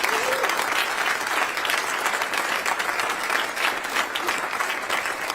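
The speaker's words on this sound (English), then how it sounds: "Let's give them one more round of applause." An audience at a retirement ceremony gives a sustained round of applause for the Blue Eagles Honor Guard, dense, even clapping from a large crowd lasting the full few seconds.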